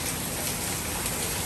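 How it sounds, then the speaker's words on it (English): Torrential evening rain pours down around 7 o'clock, a dense, loud, unbroken hiss of heavy drops with no pauses. "We are getting a torrential downpour"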